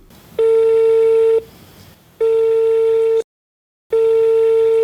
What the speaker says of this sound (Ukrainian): Упродовж дня наша знімальна група телефонувала Андрію Нікітіну.